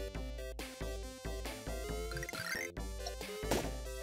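An elephant drinking water in the Marsupilami game on Mega Drive, bubbly sloshing liquid sound effects over synthesized game music, bright gurgles rising near the end.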